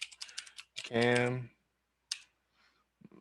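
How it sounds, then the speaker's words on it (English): Bursts of quick key clicks on a computer keyboard in a quiet room, broken up by someone talking over the typing. "I can just switch it up and type it"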